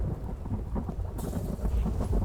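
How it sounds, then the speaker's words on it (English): Rain and thunder in the survival video game The Infected: steady, soft rainfall hiss with a low rolling rumble of thunder underneath, with the rain brightening and intensifying partway through, heard alone without talk. "It's raining. I'm really glad I made it on the inside."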